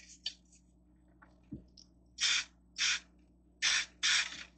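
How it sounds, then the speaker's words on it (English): Four loud, hissing bursts of aerosol mold release spray, each about half a second, in a quiet room with faint clicks and a low hum between them. "I'm going to spray some mold release down in here"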